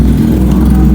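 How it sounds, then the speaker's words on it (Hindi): A Kawasaki Ninja motorcycle engine running just after being started and warmed up, a loud, close, steady low idle rumble with no talk. "अभी बस इसे स्टार्ट किया, थोड़ा सा गर्म किया"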